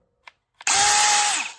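Two small clicks, then a loud DeWalt DCD803 cordless drill whirs steadily for about a second, driving a 3/8 by 6-inch lag screw, before winding down.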